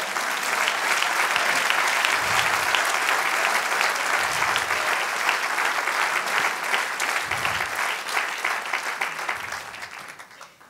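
A congregation at a prophetic church service applauds the Lord, a dense, loud wash of clapping that holds steady throughout and fades only at the very end.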